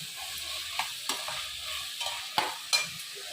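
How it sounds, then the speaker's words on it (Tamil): Carrots and other chopped vegetables sauté in a pan for sambar rice made with ration rice and dal, with a steady soft sizzle and several scraping stirs of a spoon against the pan. "இது எல்லாம் சேர்ந்து நல்லா வதங்கட்டும்"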